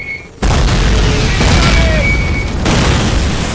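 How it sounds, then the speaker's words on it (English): Mortar shells explode in the original Call of Duty, a World War II shooter. A sudden, very loud boom swells into a sustained, rumbling roar that fills the scene without letting up. "Mortars incoming!"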